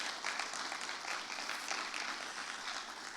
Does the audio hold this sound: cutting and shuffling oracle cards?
no